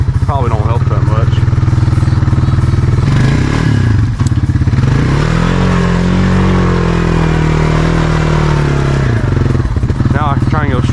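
A Honda ATV engine revs hard while stuck in deep mud on flat tires, a loud, steady roar that rises and falls with throttle, overlaid by clattering and scraping, with someone talking over it.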